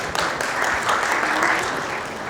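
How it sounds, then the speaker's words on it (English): Audience at a liquid cooling validation lab launch event in Ahmedabad applauding, a dense, steady burst of crowd clapping with no voices over it. "Please give a huge round of applause."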